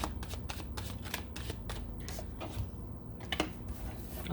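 Tarot cards being shuffled by hand, a run of quick riffling bursts with brief pauses between them, close and fairly quiet with no talking.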